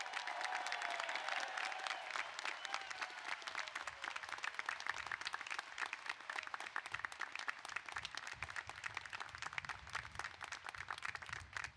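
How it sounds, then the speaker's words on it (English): An audience at a Cal Poly College of Engineering commencement ceremony applauds, many hands clapping in a sustained, fairly distant wash; a faint voice is briefly heard at the start. "Let's give him a big round of applause."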